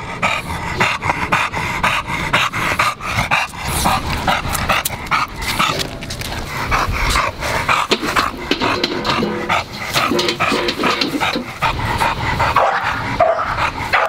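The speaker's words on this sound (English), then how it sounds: "who are you barking at?" A French Bulldog and an English Bulldog meeting for the first time, with repeated close barks, yips, panting and whimpers running continuously, loud and busy, with no talking.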